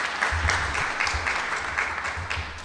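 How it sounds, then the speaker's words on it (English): An auditorium audience at a school open house claps in a steady, dense round of applause, moderately loud and unbroken throughout. "round of applause"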